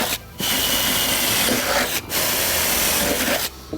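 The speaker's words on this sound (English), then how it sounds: "I just got to identify them all and get them drilled out" Drill bores out the connections on an aluminium railing, a loud continuous high-pitched whine running in bursts with brief pauses between them.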